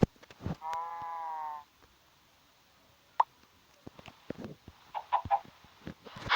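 Farm animals in a video game make a short burst of sound. One clear sheep bleat lasts about a second, followed by quiet, sparse clicks and scattered soft chicken clucks and pops.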